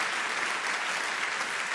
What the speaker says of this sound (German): Dass Sie da auch noch klatschen